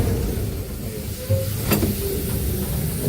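The Arjoeno steam locomotive at PG Rejosari sugar mill is brought to a stop, with a steady low rumble and hiss of steam, a short sharp burst of hissing midway, and no talk.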